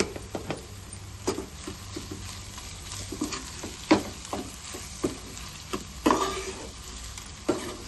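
A spoon stirs coriander-cumin powder into a frying curry in a pan, giving soft scraping and clinking strokes at an irregular pace over a low, steady sizzle, close by and fairly quiet.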